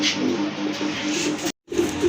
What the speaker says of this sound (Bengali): প্রথমে এক জোড়া গোল্লা কবুতর দেখাচ্ছি আপনাদেরকে রাজগোল্লা কবুতর